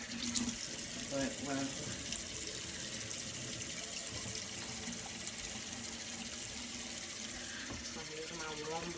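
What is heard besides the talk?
warm water running from a tap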